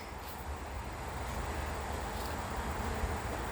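Honey bees swarm around a backyard beehive before feeding, their soft, continuous buzzing hum holding steady at low volume throughout, with no one talking.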